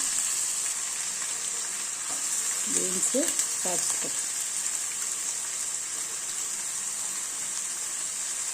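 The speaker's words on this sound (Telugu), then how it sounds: "వేసి వేయించాలి. ఇవి బాగా వేగాలి." Onions, cabbage, beans and capsicum fry in oil for veg fried rice, giving a constant, rain-like sizzle that fills the whole stretch. A brief voice is heard near the middle.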